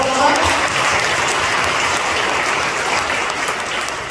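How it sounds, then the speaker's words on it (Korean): A church congregation at a revival service applauds the pastors with continuous, moderately loud clapping throughout. "그래서 목사님들 향해서 박수 한번 쳐드려요."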